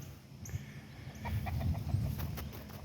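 A neighbor's chickens cluck softly nearby outdoors, short scattered calls over a quiet low background hum.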